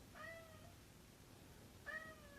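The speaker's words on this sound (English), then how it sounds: "My cat's name's Gimli from Lord of the Rings." A pet cat meows twice, two clear, fairly close calls separated by a pause of over a second, heard alone against a quiet room.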